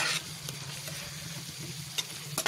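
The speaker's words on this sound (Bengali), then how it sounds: "এবার এটাকে খুব ভালোভাবে কষিয়ে নিতে হবে।" Spice paste with half a teaspoon of coriander powder sautéing in a pan for chicken soup: a soft, close sizzle with a few quick scraping stirs over a couple of seconds, no voices.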